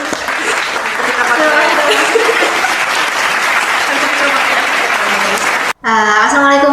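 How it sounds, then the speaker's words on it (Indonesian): An audience at a student talk applauds with loud, continuous clapping for almost six seconds, then the clapping cuts off and a voice begins speaking. "kita tepuk tangan dulu"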